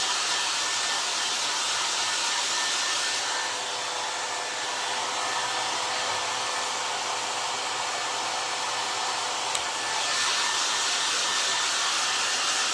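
Hair dryer blowing on glued pieces of a clock made from a Dollar Tree box, a steady loud airy roar with slight shifts in tone, no voices.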